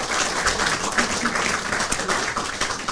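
Lawmakers at a Democratic Party caucus general meeting applaud the members of a confirmation hearing committee, a dense, continuous spatter of clapping heard close and steady for a few seconds.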